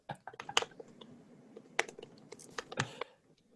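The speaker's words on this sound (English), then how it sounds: "The sound effects of How many typing." Rapid, irregular clicking of fingers typing on a keyboard, close and fairly quiet, with bursts of keystrokes and brief pauses.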